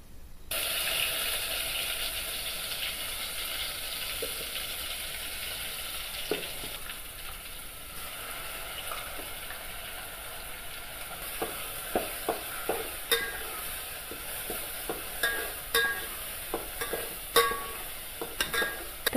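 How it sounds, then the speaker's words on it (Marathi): Ground masala paste fries in hot oil for an egg curry, a soft continuous sizzle overlaid with irregular clicks and scrapes of a spoon stirring against the pan, growing busier toward the end. "इकडे पाहू शकताय आपण तेलामध्ये चांगला मसाला भाजून घेत आहोत"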